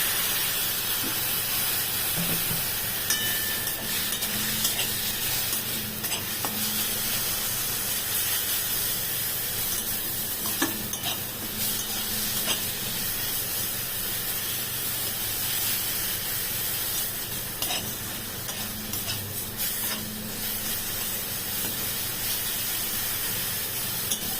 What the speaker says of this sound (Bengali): একটু জল দিয়ে দিয়ে সাঁতলে নেব